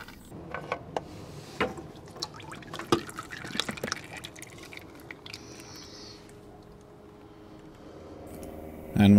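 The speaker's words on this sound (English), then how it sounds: "As you start unscrewing it, it's going to start draining oil out of the filter itself." Engine oil trickles and drips from a Ford Focus oil filter being unscrewed during a service, with scattered splats and metallic clinks of tools against the engine, fairly close and quiet.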